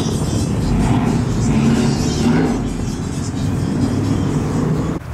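A car pulls away and drives off, its engine giving a steady low rumble and whir that holds fairly loud and even before easing slightly at the end.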